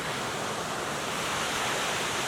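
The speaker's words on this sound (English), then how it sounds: "There's a waterfall." Steady broadband roar of the waterfall at Alsea Falls, Oregon, continuous and loud throughout with no talk over it.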